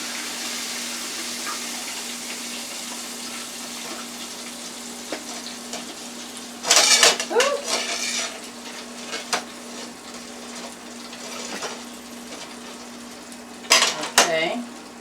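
Battered steak frying in a deep fryer, a steady crackling sizzle of hot oil throughout, swelling into louder bubbling surges when pieces are moved, with occasional clinks of utensils nearby.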